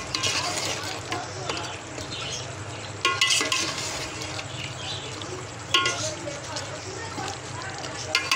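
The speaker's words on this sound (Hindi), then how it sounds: "दो से 3 मिनट भूनेंगे इसे" Meat masala roasts in a pan with a soft steady sizzle, while scraping and stirring clatter breaks in now and then and a voice talks over it.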